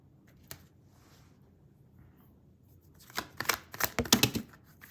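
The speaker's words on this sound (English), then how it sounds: "I'm going to shuffle a little longer with these cards" Tarot cards are shuffled. A quiet stretch with a single tap gives way to a busy run of crisp, flicking card clicks that builds toward the end.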